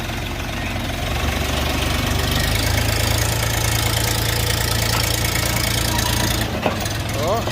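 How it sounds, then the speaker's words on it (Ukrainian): A Xingtai 244 mini tractor's diesel engine running steadily at idle while the tractor is loaded for delivery, a loud continuous low throb with a faint rising whine near the end. "Ось і відгружається наш синтайчик. Їде до свого клієнта."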